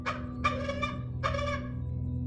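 A bird in The Lord of the Rings: Gollum video game lets out three harsh, gobbling squawks in quick succession, loud and close over a low steady hum.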